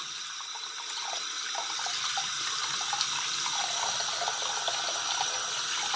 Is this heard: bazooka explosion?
no